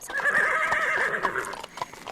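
A horse neighs in a long, loud, quavering whinny, with clip-clopping hooves knocking beneath it and trailing off at the end, a sound effect heard alone.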